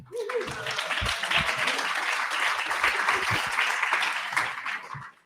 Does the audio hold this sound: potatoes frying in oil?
no